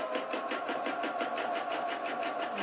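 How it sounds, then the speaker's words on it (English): A sewing machine runs along the edge of teddy bear fabric with a quick, even, close-up chatter of needle strokes, holding a steady pace for a few seconds without any speech. "So I'm just going to sew right along that edge."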